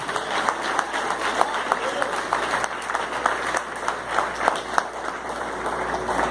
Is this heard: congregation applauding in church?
yes